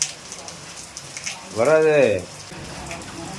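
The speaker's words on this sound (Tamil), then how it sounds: "இப்படி மழை பெஞ்சா எப்படி?" Steady rain falls outdoors as a soft, continuous patter on surfaces, with a brief voice speaking over it partway through.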